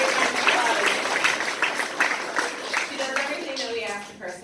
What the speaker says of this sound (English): so we give Jackie a big round of applause